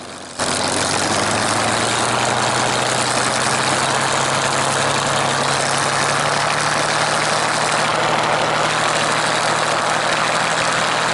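A Spitfire aircraft engine runs up at about 1700 RPM, starting abruptly and holding a steady, loud, droning roar with a constant low hum throughout.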